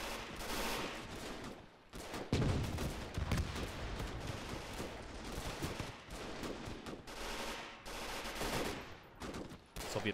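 Bursts of machine gun fire from a Soviet machine gunner in the WWII strategy game Gates of Hell, loud and dense, mixed with other gunfire and battle noise, with a short lull near two seconds.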